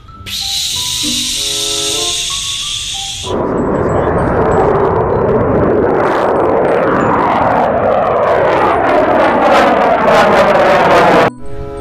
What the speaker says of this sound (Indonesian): Ayo teman-teman, kita terbangkan pesawat tempurnya.